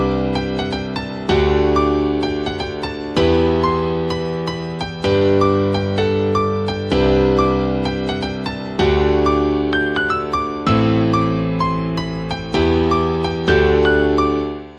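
A remix drop melody played over the intro chords: bright synth notes form a melodic line above sustained chord stabs, with loud, dense electronic production that restarts in even, repeating bars.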